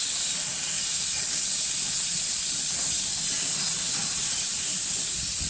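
New York steak sizzling on a grill after being flipped, a steady loud hiss of searing meat running unbroken from start to finish.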